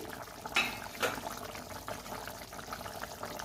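Tangra fish curry gravy simmers in a pot over a medium flame, a soft, faint bubbling with a couple of small pops and gentle liquid burbles.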